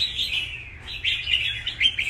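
A songbird calls close by in quick bright chirps and short trills, several bursts in two seconds with nothing else over them.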